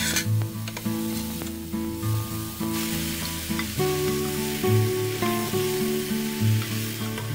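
Mushrooms sprinkled with a pinch of salt stir-fry quickly in a dry pan with no oil, giving a steady close sizzle and crackle with light stirring, while music plays underneath.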